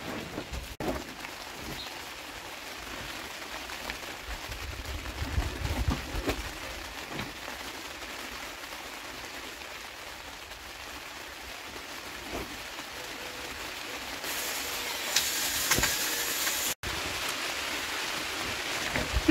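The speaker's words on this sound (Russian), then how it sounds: "Дождь льет и не успокаивается." Steady, soft rain patters on a surface throughout, a quiet wash of drops with a brief louder hiss near the end.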